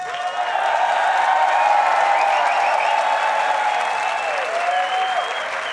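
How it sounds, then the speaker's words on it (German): A concert audience gives sustained applause to vote for a song, a dense even wash of clapping that holds steady for several seconds. Faint tones from a crowd noise or instrument run above it. "Wer das Lied Nummer 1 will, klatscht bitte jetzt."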